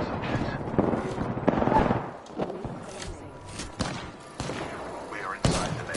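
Gunfire in the video game Apex Legends: repeated loud shots and bursts of weapon fire mixed with game effects, with in-game voice lines heard among the shooting.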